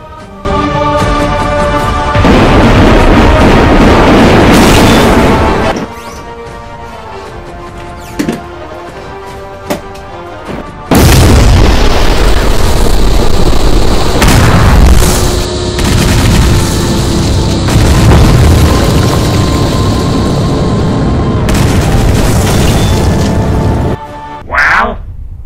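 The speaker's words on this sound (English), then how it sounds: "the whole planet's gonna explode." A whole planet explodes in a science-fiction adventure, heard as loud, sustained booming and crashing blasts that come in two long surges with a quieter stretch between, with voices talking over the din.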